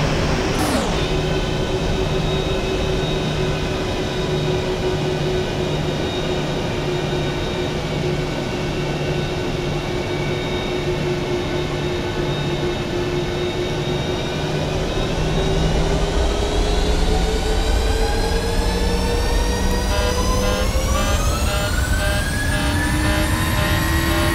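Ryanair airliner's jet engines spooling up to takeoff thrust in a flight simulator, a steady loud roar with whining tones that rise in pitch as power builds, continuous and close throughout.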